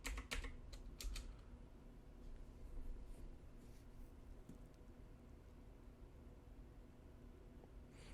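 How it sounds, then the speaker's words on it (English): A password being typed on a computer keyboard, with a brief cluster of close key clicks at the start and then mostly quiet room hum. "Type in my password."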